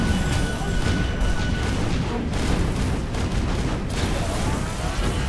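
Explosions from the action roguelike game Skul: the Hero Slayer, played in hard mode with bomber and mage skulls, pile into a loud, unbroken roar of booms and crashes with no voice over them.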